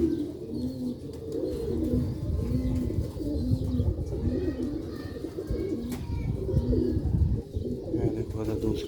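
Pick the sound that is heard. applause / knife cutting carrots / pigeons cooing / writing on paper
pigeons cooing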